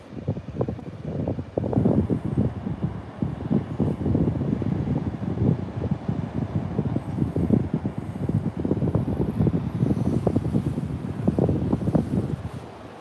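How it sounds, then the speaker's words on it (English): Strong wind buffets the microphone on the beach at Horsey in north Norfolk, a loud, continuous low rumble with gusting bursts that rise and fall throughout. "Hopefully the wind is not too bad for you"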